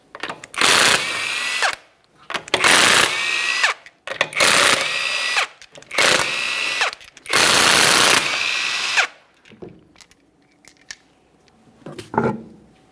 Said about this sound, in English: we're going to remove all 5 of our 21mm lug nuts and then the wheel